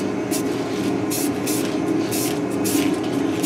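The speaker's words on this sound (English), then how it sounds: "So I'm going to spray it with some self-etching primer first" An aerosol can of self-etching primer hisses in a series of short bursts onto aluminum, several quick sprays in irregular rhythm over a steady background hum.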